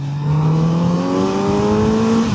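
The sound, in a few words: motorcycle engine induction noise accelerating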